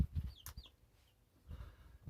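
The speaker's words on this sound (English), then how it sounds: "And I have some happy chicks." Young chicks a couple of weeks old in a small chicken coop give a few quick, faint high peeps and soft clucks in two short bursts, with quiet rustling between.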